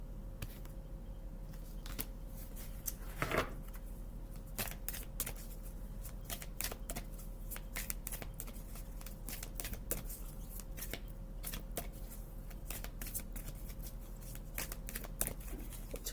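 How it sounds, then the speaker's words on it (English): Close, crisp riffling and snapping of a very large deck of cards being shuffled repeatedly in irregular bursts, quiet and intimate with no talking. "It's a really big deck. It's kind of hard to shuffle"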